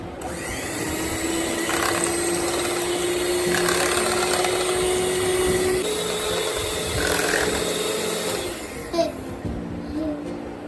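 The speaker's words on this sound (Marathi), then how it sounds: "हे मिक्सचर जे आहे ना ते थोडं व्हिपिंग मशीनने ब्लेंड करून घेते आहे" A steady electric motor whirs continuously with a slight grinding edge, a handheld whipping machine blending a mango milkshake, then cuts off near the end.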